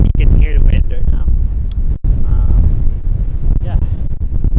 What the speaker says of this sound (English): Like you can hear the wind right now.